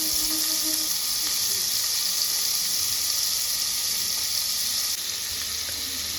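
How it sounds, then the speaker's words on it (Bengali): Cubes of paneer frying in melted butter and oil in a pan, giving a steady, bright sizzle with occasional small stirring and clinking sounds, close and continuous, with no talk. "তেলের মধ্যে বাটারটা যখন একদম গলে যাবে তখন আগে থেকে যে পনির কেটে রেখেছিলাম সেই পনিরটাকে দিয়ে দিচ্ছি"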